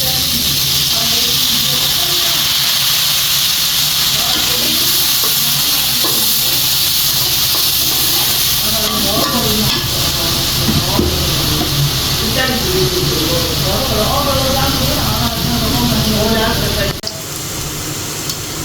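Soy sauce hitting a hot pan of browned onions gives a loud, steady sizzle and hiss, with voices over it, before the sound drops away near the end.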